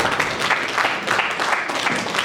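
Sustained applause from an audience at a university law debate in Juliaca, a dense, steady clapping wash that holds evenly throughout with no voices over it.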